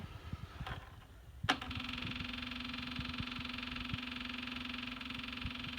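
Massey Ferguson GC1705 compact tractor starting cold on a snowy morning in South Georgia, with a few soft knocks, then the engine catches abruptly and settles into a steady, close idle.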